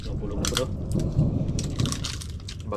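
Deep thunder from a typhoon rumbling over an island, with heavy rain hissing throughout and crackling bursts of noise, loud and close, and a voice speaking briefly over it.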